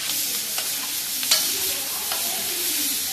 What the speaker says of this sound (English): The final stage is frying the boiled pieces.